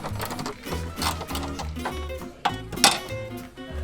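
Strut nuts being removed from a Toyota Corolla with a power tool, rapid rhythmic rattling bursts in short repeated runs, close and fairly loud, with a couple of sharper clanks near the end.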